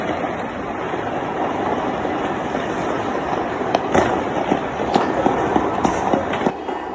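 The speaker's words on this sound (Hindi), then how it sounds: "तो लगातार गोलीबारी," Continuous gunfire near the presidential palace in Venezuela, heard as a dense, noisy outdoor wash with scattered sharp cracks and pops rising out of it, several louder shots standing out toward the end.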